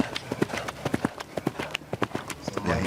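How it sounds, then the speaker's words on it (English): A horse gallops cross-country at an eventing competition, its hooves striking the turf in quick, uneven clusters of close, loud thuds over a constant outdoor background, with a commentator's voice faintly underneath. "you only have to look at the horse's expression as he's galloping across the country"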